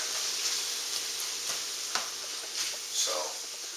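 Ground beef sizzles and crackles steadily in a pan, a constant frying hiss with occasional louder pops and faint stirring scrapes.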